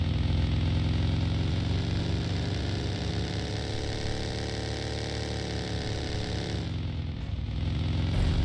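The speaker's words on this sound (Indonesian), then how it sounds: "Oh motor ada kira orang." Motorcycle engine in the mobile battle-royale game PUBG Mobile, idling and revving steadily and loudly throughout, with a brief dip near the end.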